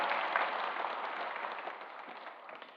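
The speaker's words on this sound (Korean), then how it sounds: "다시 한번 박수로 이분들 격려하겠습니다." Church congregation clapping together at a Sunday service to encourage people, a dense, steady wash of many hands that slowly fades toward the end.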